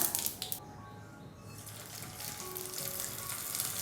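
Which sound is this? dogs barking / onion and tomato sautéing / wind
onion and tomato sautéing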